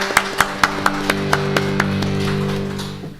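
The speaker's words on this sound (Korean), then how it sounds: "여러분 박수 부탁드리겠습니다" Sharp, evenly spaced claps ring out over a sustained musical tone on a talk broadcast, slowing and fading as the tone swells and dies away.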